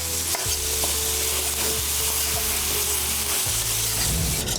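A flaxseed-bread stuffing mixture fries loudly in a pan while it is broken into chunks, with a steady sizzle broken by scraping and stirring knocks throughout, and no talking.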